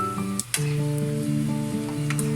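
Pork rinds fry in hot lard, a steady close sizzle with a sustained tonal drone running alongside and a brief dip partway through.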